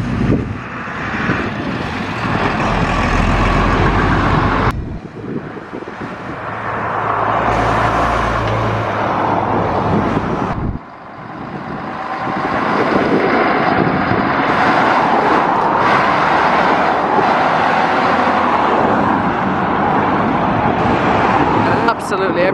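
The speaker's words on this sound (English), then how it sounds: "This is a very unusual truck." An unusual vintage lorry pulls away from a vehicle meet at a Cheshire run, its engine loud and close with rumbling low drone, passing traffic noise around it and a voice heard briefly.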